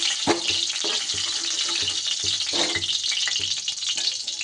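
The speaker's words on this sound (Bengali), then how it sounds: "এদিকে ফুলকপিগুলো আমার ভাজা হয়ে গেছে, এগুলো আমি এবার তুলে নিচ্ছি।" Cauliflower pieces frying in hot oil for a fish curry with winter vegetables give a steady close sizzle with a bright hiss, broken by repeated clinks and scrapes as the pieces are lifted out. No talk.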